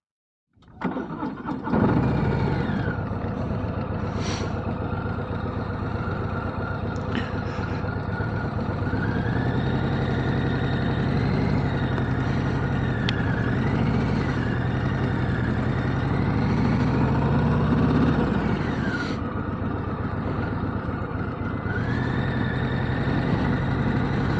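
A 2025 Harley-Davidson Low Rider ST motorcycle starts up and runs with a steady, loud, close engine rumble and idle, with slight rises and dips in revs and no talk.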